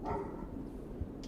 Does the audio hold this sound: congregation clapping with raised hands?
no